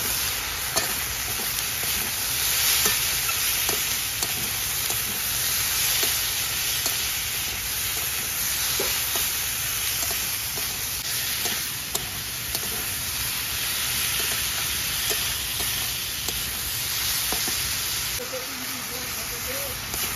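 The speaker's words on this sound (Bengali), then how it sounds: "লঙ্কা গুঁড়োটা দিয়ে দেবো, হলুদ গুঁড়োটা দিয়ে দেবো, পরিমাণ মতো নুন দিয়ে দেবো, দিয়ে আমি ভালো করে কষিয়ে নেব" Small mourala fish sauté with chilli powder, turmeric and salt in a pan, giving a loud, continuous sizzle with scraping stirs and occasional pops throughout.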